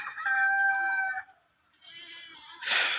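Four-month-old Egyptian Fayoumi chickens on a farm, a rooster crowing loudly and close in a long call, then a second shorter crow and a brief burst of clucking or flapping.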